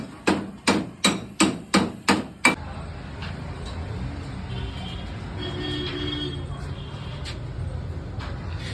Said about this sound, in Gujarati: ગમે તેવી ગાડીના ગોબા કાઢ નાખે